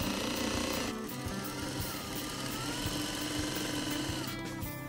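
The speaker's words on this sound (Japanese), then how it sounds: "色の流れを見ながらミシンを縦にかけていく" An industrial sewing machine runs steadily up and down worn, faded blue denim jeans during a repair, a continuous close mechanical whirr and rapid stitching chatter with a brief pause near the start and no talk.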